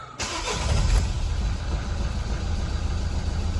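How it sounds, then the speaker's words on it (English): Vauxhall Vivaro 1.6 CDTi diesel van engine starts after an oil change and settles into a steady, close, rumbling idle with no talk over it. "Start and run the engine for a few minutes"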